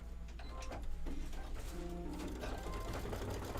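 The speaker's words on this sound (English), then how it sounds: "I'm just gonna hit start again on my machine. So it's now stitching on the little green leaf." An embroidery sewing machine stitches a small green leaf, its needle chattering in fast, even mechanical ticks over a low motor hum, close and steady throughout.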